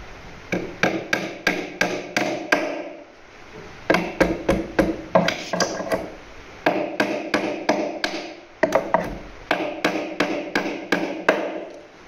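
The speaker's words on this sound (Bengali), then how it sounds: "এই এখন বড় তার কাটা মারবো" Big wire nails being hammered into a board, sharp strikes in quick bursts of about six or seven blows each, with short pauses between groups, close and loud.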